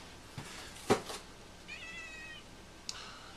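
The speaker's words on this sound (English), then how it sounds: "Zelda, what do you want, kitty?" Zelda, a pet cat, lets out a short, fairly close meow, with a fainter mew a moment later and then a brief chirp; no one talks.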